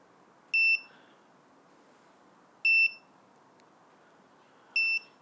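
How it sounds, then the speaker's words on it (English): Three short, high electronic beeps from a VIFLY Finder 2 drone finder alarm after telemetry loss, spaced about two seconds apart, each ringing briefly over a faint steady hiss. "We get the nice low level beeping."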